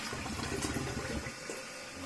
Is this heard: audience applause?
no